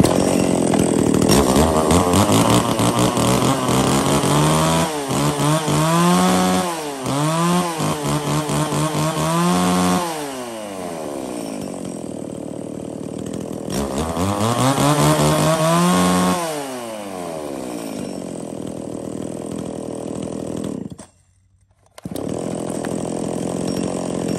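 A lightweight Japanese Hitachi chainsaw engine, a used import, runs loud and close, revving up and down in two long surges with idle between, then cutting out briefly near the end before restarting.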